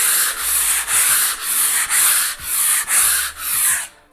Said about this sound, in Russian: просто сошлифовываем шпаклевку